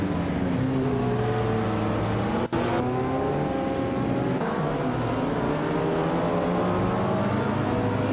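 Race cars, led by a 1988 Porsche 944 Turbo S, launch off the line at the start of a rallycross race at Los Arcos in a video game, engines droning loud and continuous with rising revs and one brief cut.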